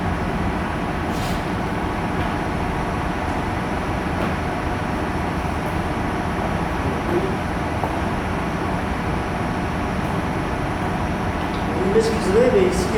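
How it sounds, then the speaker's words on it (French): A huge, very loud old air-conditioning unit still running inside a telephone exchange, giving a steady, dense mechanical roar with a constant low hum, and a brief squeal near the end. "ici il y a une climatisation, enfin une conditionnement d'air qui est énorme, qui est très bruyant, ancien, et qui fonctionne encore"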